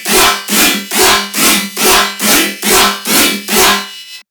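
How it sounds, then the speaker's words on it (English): Aggressive riddim/tearout bass patch built from a single oscillator in Serum, playing eight evenly spaced, growling wobble hits in a steady rhythm, loud and up front with nothing else around it. "we are going to find out how to make this nasty RIDDIM/TEAROUT bass, which sounds like this"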